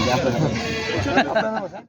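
Osmanabadi goats bleat repeatedly at a busy goat market, several wavering calls rising over a dense crowd of overlapping voices as traders haggle nearby.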